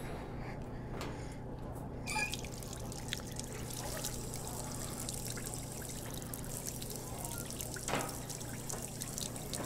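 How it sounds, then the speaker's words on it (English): Water in Job Simulator trickling and pouring into a cooking pot, a continuous faint splashing stream with small drips and clinks over a low steady hum, no voices. "they all start with putting some water in the pot"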